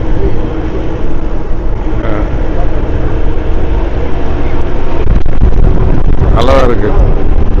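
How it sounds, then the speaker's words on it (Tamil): Steady broadband wind roar fills the cabin of a car driving with its windows lowered and the air conditioning off, heading toward Kodaikanal, continuous throughout with a brief swell near the end while a person talks over it. "கிளாஸ் இறக்குனேன், ஏசி வைக்கல, கிளாஸ் இறக்குனேன். இன்னொன்று சில்லுன்னு காற்று வருது."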